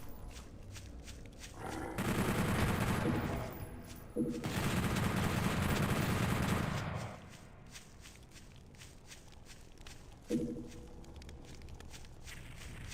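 Rapid gunfire in PlayStation Doom 64 CE fires in two long, loud sustained bursts, followed later by a shorter burst, with quieter game ambience in between.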